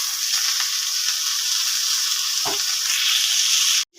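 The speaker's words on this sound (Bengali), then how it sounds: "এবার আমি মোচাটাকে দিয়ে দিলাম, দিয়ে একটু ভালো করে একটু ভেজে নেব।" Banana flower and potato fry together in a pan, a loud, even, continuous sizzle with one brief stirring scrape before it cuts off.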